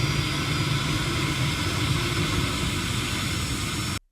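Aerostar Jet aircraft engine running at high power, a loud steady roar with broadband whine held evenly close by, cutting off abruptly at the end.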